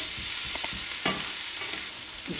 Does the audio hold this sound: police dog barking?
no